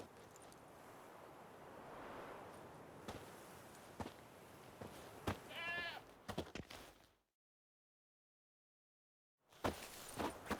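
A goat tied to a stake in The Witcher 3 gives one short bleat amid outdoor ambience with wind, surf-like wash and scattered footsteps and clicks; no one speaks.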